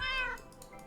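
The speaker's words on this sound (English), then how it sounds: "Hi cats, I hear you." A single close, clear cat meow, drawn out and falling in pitch, followed by faint rustling.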